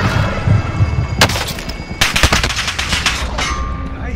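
Rapid bursts of automatic gunfire in Call of Duty: Warzone on the Fortune's Keep map, loud and close. They come in dense rattling volleys with short gaps, and some shots echo from farther off.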